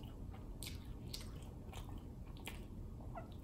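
Biting and chewing a taco at close range, with several short crunchy bites spread over a few seconds against a steady background hiss and no talking.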